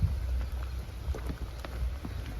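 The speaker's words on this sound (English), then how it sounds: "likes this rain a lot better because there's no thunderstorm with it" Rain falling on a cattle farm with no thunder, a soft steady patter with scattered drops tapping nearby surfaces, faint and fairly low in level.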